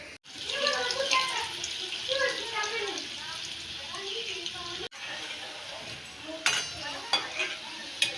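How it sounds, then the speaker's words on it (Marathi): Stuffed modaks deep frying in hot oil give a steady bubbling sizzle throughout, with a few sharper clinks and scrapes of a utensil near the end. "आता आपण तळून घेऊ।"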